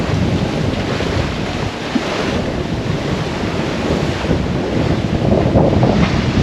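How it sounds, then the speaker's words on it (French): Sea swell and waves wash around a sailboat under sail in a beam wind, a loud, constant surging roar blended with wind buffeting the microphone. "toujours une bonne houle, on s'est bien fait tremper"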